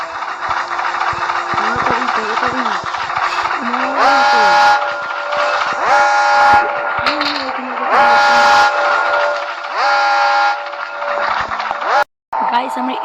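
A train in a video game gives repeated, loud whistle blasts over a steady rumble of engine and wagons, and a voice talks during it.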